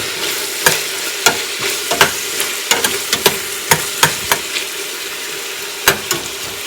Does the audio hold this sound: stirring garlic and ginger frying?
yes